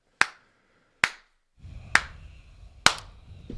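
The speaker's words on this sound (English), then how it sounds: "Slow clap for Zy." A slow clap rings out as four sharp, isolated hand claps spaced roughly a second apart, close and crisp, with a low background rumble rising under the last ones.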